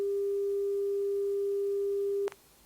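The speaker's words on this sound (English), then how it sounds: "we'll get a sine wave of 400 hertz," A steady, pure 400 Hz sine tone, generated digitally, holds at moderate level for about two seconds, then cuts off abruptly with a brief click, leaving faint background hiss.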